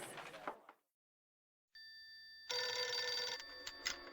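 A telephone rings in the horror video game 3 Cards to Dead Time, a bright, sustained electronic ringing that starts after a brief silence and swells louder partway through, with no voices.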